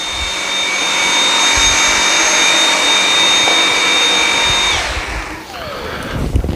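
A Dyson V7 Motorhead cordless vacuum cleaner runs on low power, a loud steady whining motor drone with a high tonal whistle that cuts off near the end, followed by brief clattering handling noise up close.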